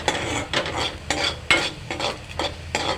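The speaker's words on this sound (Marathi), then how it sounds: "आलं आणि लसूण चांगलं भाजा थोडं लालसर होऊ दे अजून थोडं भाजा" Ginger and garlic roast in a hot pan on a gas stove while a spoon stirs them, making rhythmic scraping strokes over a steady sizzle, close and fairly loud, with no voices.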